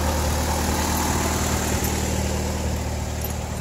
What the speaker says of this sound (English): Now it's sounding the car's idling perfect.